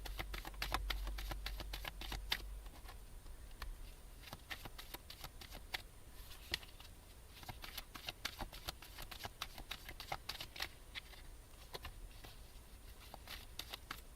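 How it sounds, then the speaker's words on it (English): Tarot cards shuffled by hand during a live reading, a dense run of quick papery flicks and riffles, soft and close, continuing steadily with no voices. "I put this card back in the deck twice and shuffled"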